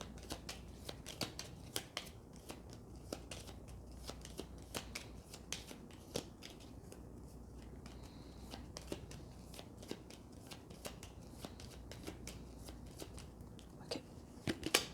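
Tarot cards riffled and shuffled by hand, soft crisp flutters and taps repeating steadily at close range, quiet and continuous with no talk.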